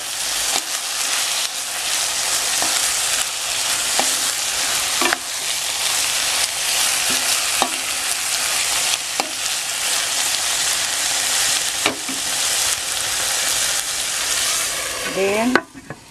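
Bopis frying in a pan is stirred with steady scraping and sizzling, a dense continuous crackle with occasional utensil clinks close up and no talking.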